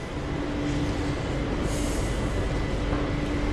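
A Delhi metro subway train runs with a steady loud rumble and a constant hum, heard from inside in a continuous wash of noise with a faint brief squeal partway through.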